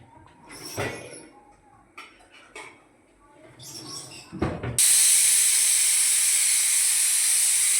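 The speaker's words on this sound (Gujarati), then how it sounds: "જો સીટી વાગી" A pressure cooker of boiling watermelon rind on a gas stove lets out its whistle: after a few seconds of quiet kitchen sounds and talk, a loud, sharp, sustained hiss of escaping steam bursts in and holds steady to the end.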